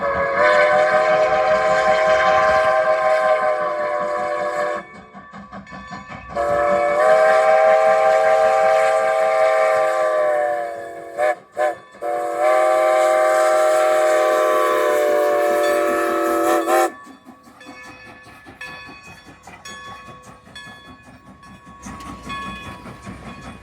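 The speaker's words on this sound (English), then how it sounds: "This shot was taken at the railroad's main station, located in Strasburg, as number 90 pulls in." Steam locomotive number 90 arriving at the main station of the Strasburg Rail Road in Strasburg, sounding long, loud chime whistle blasts separated by brief gaps, then heavy rolling chuffing and rail clatter as it pulls in.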